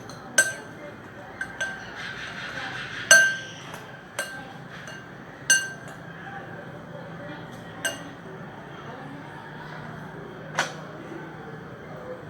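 A spoon stirs cornflakes and milk in a glass bowl, giving sparse, sharp clinks against the glass at irregular intervals over a quiet background.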